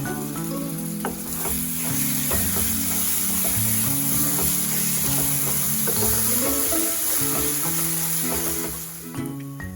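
Coriander thogayal ingredients sauté in oil over a medium flame with a loud, continuous sizzle throughout. A layered background tone sits under it, and the sound eases slightly at the very end. No speech.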